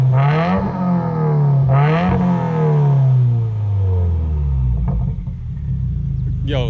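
Car engine with the muffler deleted, revving loudly up and down a couple of times with a deep droning exhaust and turbo whoosh as the revs fall, close by, with a brief pop near the end.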